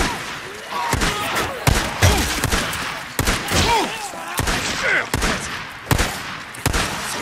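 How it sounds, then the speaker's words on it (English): Gunfire in Days Gone from a companion shooting inside a mine: loud, repeated bursts of shots at fairly regular intervals, echoing, over several seconds. "Skizzo, stop shooting!"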